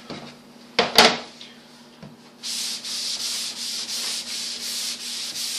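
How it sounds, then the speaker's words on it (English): A few knocks and a scrape, then a sander rubs steadily across a curved car hood in even back-and-forth strokes, close and fairly loud. "So we're sanding on two crowns."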